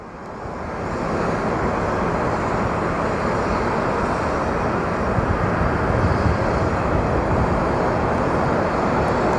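An American Airlines jet airliner at Phoenix Sky Harbor gives a steady, dense engine roar that builds within the first second and then holds evenly, loud and unbroken, with no voices.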